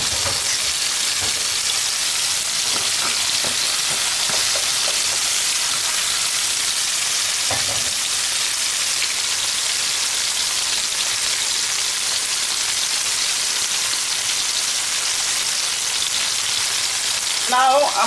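Steady, dense sizzling of vegetable Indomie noodles frying in a pan, a constant hissing crackle with a few faint clicks near the end.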